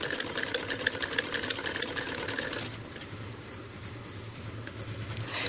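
A sewing machine runs straight stitching on net saree fabric, loud and steady with a fast rhythmic whir for about two and a half seconds, then drops to a quieter, lower hum for the rest.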